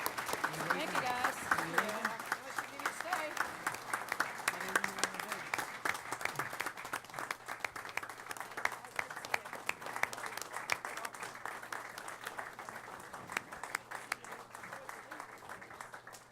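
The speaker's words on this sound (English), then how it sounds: "Governor, we're going to give you another round of applause for being a transformational transportation governor, unparalleled." Sustained audience applause fills a meeting room in honour of a departing governor at a state transportation commission session, steady dense clapping that continues throughout, with someone talking over the start.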